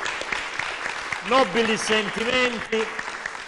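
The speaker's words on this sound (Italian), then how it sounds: "Facciamo un applauso al Presidente." An audience applauds the president at a folk group performance, the clapping a dense wash running beneath someone speaking over it.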